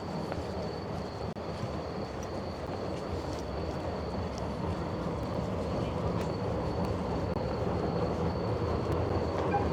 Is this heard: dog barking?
no